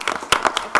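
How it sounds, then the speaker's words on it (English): A few slow, separate handclaps ring out at a school board meeting, sharp and close, spaced unevenly across under a second. "Come on, slow clap."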